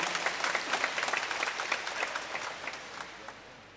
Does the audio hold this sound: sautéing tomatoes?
no